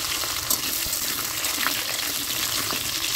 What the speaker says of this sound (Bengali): এবার কুমড়োগুলোকে ভেজে নিতে হবে।